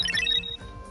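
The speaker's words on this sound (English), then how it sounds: "When the wall clock's alarm rang" Wall clock alarm ringing in the video game Danganronpa 2: Goodbye Despair, a brief bright electronic chime that sounds for under half a second and then fades into a quieter hum.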